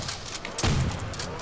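A single trench gun shotgun blast fires in Call of Duty Zombies, in the Nacht der Untoten map. It is a sharp, booming shot midway through, set against a low steady game background.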